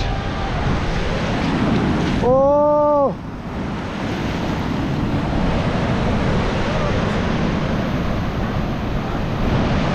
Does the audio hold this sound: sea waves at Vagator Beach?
yes